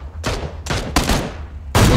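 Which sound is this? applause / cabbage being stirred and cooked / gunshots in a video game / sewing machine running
gunshots in a video game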